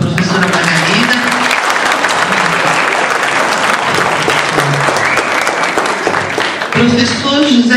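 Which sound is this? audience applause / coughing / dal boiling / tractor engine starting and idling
audience applause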